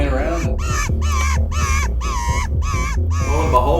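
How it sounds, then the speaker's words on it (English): An RSS-6 electronic predator call plays a bird distress sound: about six loud, harsh, crow-like cries repeat in an even rhythm over a low background rumble. "I was playing around my RSS-6 bird distress"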